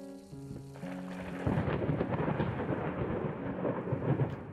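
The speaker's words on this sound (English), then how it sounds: "Lots of thunder." Loud rolling thunder rumbles continuously in the horror video game Layers of Fear, with a dense wash of rain hiss building after a softer opening.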